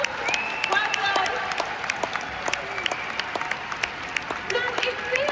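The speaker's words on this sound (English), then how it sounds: "Big round of applause." Applause from a convention audience with sharp individual claps standing out over a continuous murmur, some voices and whoops mixed in, sustained and fairly close.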